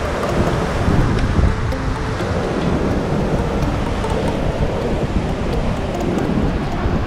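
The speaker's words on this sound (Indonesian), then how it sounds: "bisa kita lihat batu karang yang cukup kokoh yang dihantam ombak" Ocean waves crash against sturdy coral rock at Tanah Lot, Bali, making a loud, continuous roaring wash of surf with no talking.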